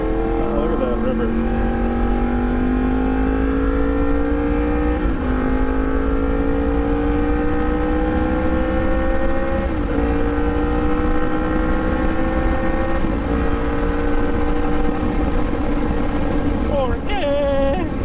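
A Yamaha MT-10 motorcycle fitted with an Austin Racing exhaust is ridden hard, its engine note climbing through several gears with brief dips at each shift. The sound is close and loud with constant wind rush.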